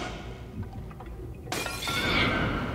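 A glass jar thrown in the video game Little Nightmares 2 shatters with a sudden loud crash partway through, followed by a bright scatter of tinkling shards over a low ambient rumble.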